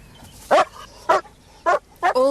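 A white dog gives four short, separate barks or yelps spaced about half a second apart, the last sliding into a higher whimpering whine, set against a faint, quiet background.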